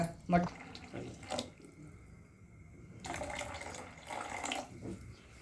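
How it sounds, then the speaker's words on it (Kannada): Water pours in two splashy bursts into a pot of lentil curry with spices close by, with brief quiet clinks and a short gap between. "ನಮ್ಗೆ ಎಷ್ಟು ಬೇಕೋ ಅಷ್ಟು ನೀರು ಹಾಕೋದು."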